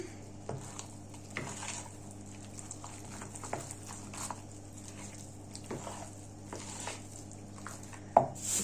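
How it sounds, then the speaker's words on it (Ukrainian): Raisins are stirred into a cottage cheese casserole mixture in a bowl, giving quiet, soft, irregular ticks and squishy scrapes of a spoon against a steady low background hum. "Тепер додаю сюди родзинки, перемішуємо."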